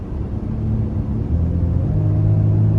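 Engine induction note of a 2024 Volkswagen Atlas SUV in sport mode, a low steady rumble rising slightly in pitch as it pulls, close and continuous with no voices.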